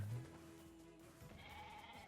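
A sheep in the video game Nier Replicant bleats faintly, a short wavering animal cry that gives way to quiet game sounds.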